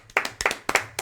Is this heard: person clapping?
yes